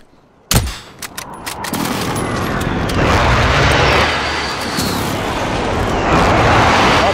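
A precision airstrike in Call of Duty Warzone hits with a sudden loud blast, followed by a long roaring wall of rumbling explosions and aircraft noise that stays heavy and close.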